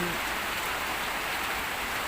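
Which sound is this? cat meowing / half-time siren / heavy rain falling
heavy rain falling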